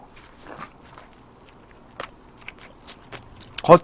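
A handmade burger with a crispy fried mashed-potato patty is bitten and chewed close up, with scattered soft crunches building to a louder crisp crunch near the end.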